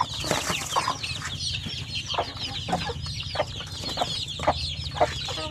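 Sampin native Philippine chickens, including about sixteen chicks and adult fowl, cluck and peep in a pen, with repeated short calls and chirps over a low background hum, close and moderately loud.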